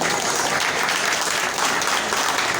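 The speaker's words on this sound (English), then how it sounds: "Let's all give them another resounding applause," A crowd applauds the artists at the opening of the Davao Art Fest, with dense, continuous clapping at an even level from start to finish and no talk.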